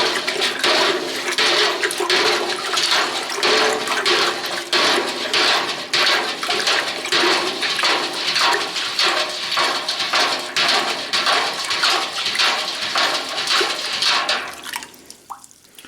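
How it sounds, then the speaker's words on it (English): Sugar and water swirled and stirred in a bucket for a sugar wash, a continuous loud sloshing and churning of liquid with rhythmic surges, ending in a quick fade near the end, with no speech. "and then we're going to give it another stir."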